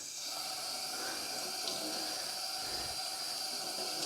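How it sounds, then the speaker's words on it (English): Cold tap water runs in a steady, faint hiss as dyed cotton yarn is rinsed under it, with soft splashing and no voices. "I'm just going to give this a little bit of a rinse under some cold tap water"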